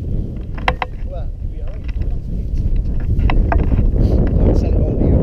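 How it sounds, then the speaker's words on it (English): Wind rising outdoors at a wild camp on Hedgehope in July, buffeting the microphone with a loud, rumbling roar that swells steadily, with some scattered knocks and clicks and a few moments of faint speech mixed in. "There's a wind picking up."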